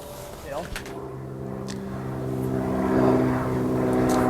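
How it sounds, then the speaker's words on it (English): A propeller airplane drones steadily overhead, its hum swelling slightly louder toward the end, with faint background noise around a house. "There's that plane that flies overhead every time I film."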